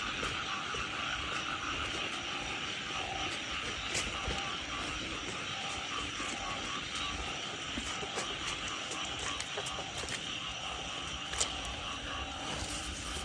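Many frogs croak in a dense, continuous chorus of rapid calls in rice paddies at night after rain, with night insects buzzing alongside.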